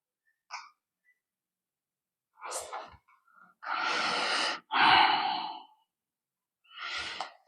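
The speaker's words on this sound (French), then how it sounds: "J'inspire, j'expire, je relâche ici." Slow breathing during a hatha yoga session: a few quiet breaths, then two long, airy exhales close by, separated by silences, with no speech.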